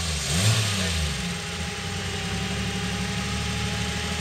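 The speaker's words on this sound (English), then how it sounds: "More throttle." An off-road vehicle's engine revs up under more throttle at a ridge trail in Alto, Texas, a close mid-pitched roar that surges briefly and then holds a steady rumble.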